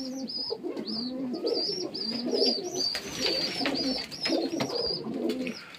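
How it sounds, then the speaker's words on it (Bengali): Pigeons kept indoors in a room coo steadily in soft repeated phrases, with higher chirps and bird calls scattered over the top, fairly close and continuous without talk. "তো ভিউয়ার্স দেখেন, সব সবুজের মধ্যে পায়রা রয়েছে ফটিকদার কাছে"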